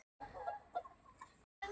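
Chickens on a small poultry farm raising country-breed and Kaveri birds give a few soft, brief clucks, faint and close, with short silent gaps around them.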